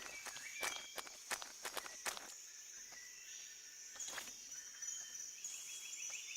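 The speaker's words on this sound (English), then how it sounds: "Okay, we gotta listen for footsteps and whatnot." Footsteps in the video game Metal Gear Solid 3: a quiet run of light, quick steps, then scattered single steps over a steady high insect-like ambient hiss of jungle sound, with no talk.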